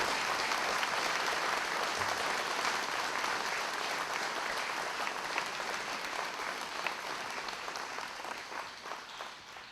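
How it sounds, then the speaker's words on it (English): Sustained applause from a seated crowd at a veterans hall of fame luncheon, honoring the Hamilton High Junior ROTC color guard: thick, even clapping from many hands that holds strong for ten seconds and thins slightly toward the end. "Let's give the Hamilton High Junior ROTC program a great round of applause"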